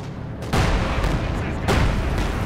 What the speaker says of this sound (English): There you go, Panzer IV gets off a nice hit.